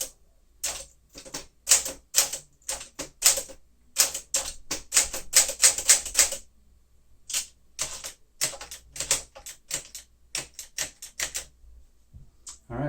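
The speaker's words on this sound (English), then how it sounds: "Now we'll do the typing test so you can see the vertical alignment and all the keys work." Typing on a 1959 Sapphire Grey Smith-Corona Sterling manual typewriter, close, crisp key strikes in quick bursts with short pauses between them.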